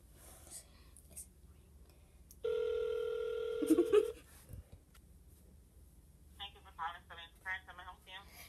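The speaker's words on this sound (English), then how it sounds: "should I give it a dial right now?" A telephone is dialed and rings: a steady tone sounds for about a second and a half, followed later by a rapid burst of ring pulses, with faint whispering in the background.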